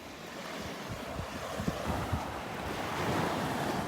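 Ocean surf rolls onto the sand at Delnor-Wiggins beach on a calm morning, a continuous wash of waves mixed with wind buffeting the microphone.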